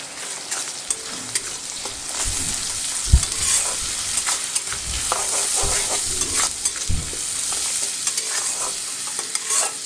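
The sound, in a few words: frying spice paste with Kashmiri chili, turmeric and salt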